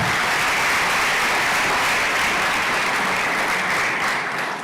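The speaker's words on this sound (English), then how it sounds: "a round of applause for that." A crowd at a national science and technology exhibition award ceremony breaks into dense, sustained applause, loud and close, many hands clapping steadily for several seconds before easing off slightly at the end.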